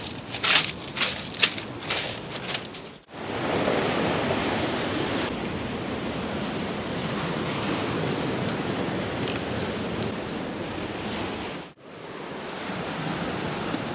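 Sea surging over a rocky shore below a cliff, a continuous broad roar of breaking waves and wind, loud and close, with brief rustling handling noise at the start and short cuts in the middle.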